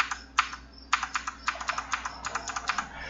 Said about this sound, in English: they do provide an audible feedback as well as the tactile feedback from the key press